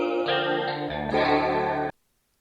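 Liquid Crystal synth chords played in iOS GarageBand, a bright, shimmering chorused pad holding two chord changes for about two seconds before stopping abruptly.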